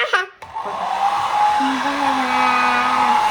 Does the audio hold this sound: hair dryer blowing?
yes